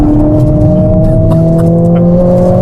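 A Mercedes-AMG accelerates on a proving-ground track, its engine drone loud and steady from inside the car with a rising tone under an automatic gearbox, no talk.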